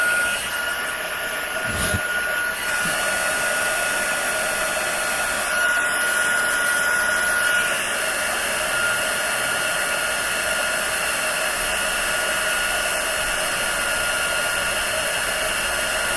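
A handheld heat tool used for embossing craft powder blows a loud, continuous whirring hiss for the whole stretch, close to the mic and steady in level, with faint brief clicks and no talking.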